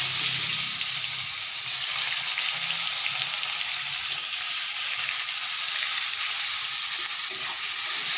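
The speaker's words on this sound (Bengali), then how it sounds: "এখন দিয়ে দিচ্ছি পেঁয়াজ।" Onions frying in hot oil make a loud, dense, continuous sizzle, close to the pan and steady throughout, with no talking.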